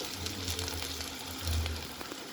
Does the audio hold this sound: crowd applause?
no